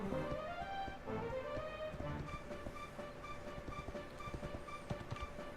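Horse hooves galloping in the video game Dragon Quest XI, a rapid, rhythmic clip-clop running continuously over layered game music at moderate level.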